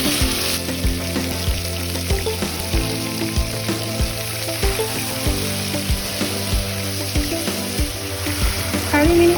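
Chopped tomatoes sizzle and fry in hot oil in a pan, a steady close crackle broken by sharp spatters and stirring clinks, with a louder burst at the end.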